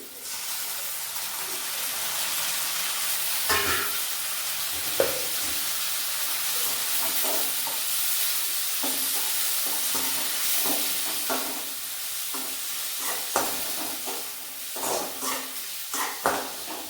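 Onions and tomatoes frying in hot oil, a constant loud sizzle and hiss broken by repeated scraping and clattering as the pan is stirred, with no voices.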